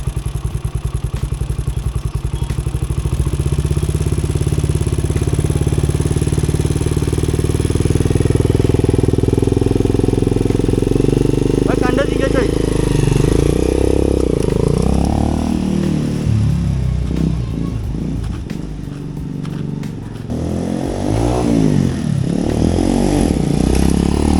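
A motorcycle engine idles steadily, then revs and labors as it pulls away in first gear, the rumble rising and wavering with clattering mechanical noise, close by and loud throughout.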